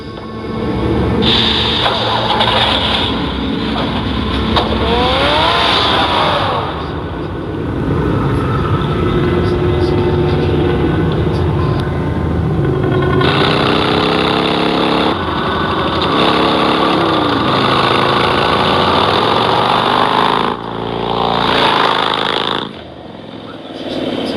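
A car engine drones steadily in the Batman Telltale Series game, loud and continuous with shifting pitch and brief dips, layered with music and effects.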